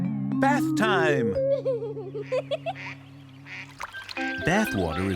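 A duckling quacks during bath time, a string of close, bright quacks and peeps over splashing water, while a narrator speaks over part of it.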